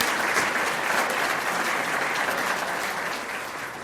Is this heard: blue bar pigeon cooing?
no